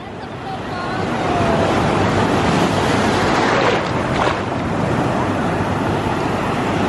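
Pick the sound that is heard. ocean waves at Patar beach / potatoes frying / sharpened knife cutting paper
ocean waves at Patar beach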